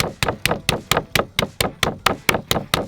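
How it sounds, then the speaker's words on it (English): Ribeye on skewers is pounded flat on a cutting board, giving a steady, evenly spaced run of about a dozen loud, close, dull thumps with no talking. "Pounding that char even further into the meat, making it so thin that it's going to be effortless to pull off of the skewer."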